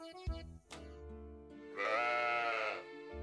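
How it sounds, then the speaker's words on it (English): A sheep in the farming game Story of Seasons: Pioneers of Olive Town gives a clear drawn-out bleat after a few soft clicks, close and alone, with no talk over it. "Hello, random sheep?"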